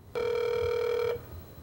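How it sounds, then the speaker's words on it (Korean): An unanswered call to a home landline: a single steady electronic ring tone holds for about one second, clear and fairly loud, then cuts off into quiet room hiss. "혹시나 하는 마음에 집 전화로 다시 걸어보는 라비"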